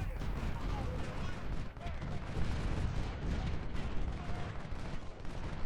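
Musket and artillery fire roll across an American Civil War battlefield in Ultimate General: Civil War, a steady, dense wash of distant crackling volleys and booms that goes on without a break, with a voice talking over it.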